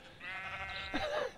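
A sheep in the Minecraft video game gives a single drawn-out bleat, clear and fairly close, with a soft bump at the end.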